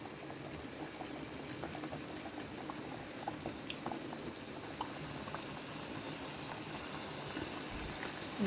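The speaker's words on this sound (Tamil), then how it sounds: "இதுவும் ஸ்லோவில் வச்சு நாம் ஃப்ரை பண்ணி எடுக்கலாம் ஃப்ரெண்ட்ஸ்" Wheat samosas deep fry slowly on low heat in oil, a soft continuous bubbling with faint crackles throughout, no voices.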